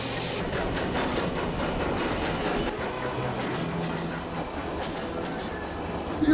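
A runaway train thunders along the rails with a loud, steady rumble and a rhythmic clickety-clack of wheels over track joints, continuous throughout with no voices.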